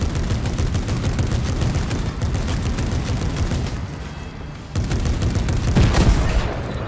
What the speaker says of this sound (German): Jacob muss schießen.